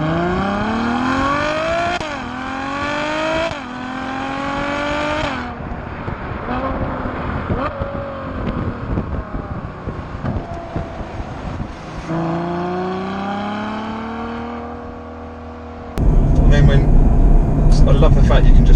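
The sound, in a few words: Ferrari GTC4 Lusso V12 driving on a bumpy UK road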